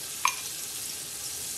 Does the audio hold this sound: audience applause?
no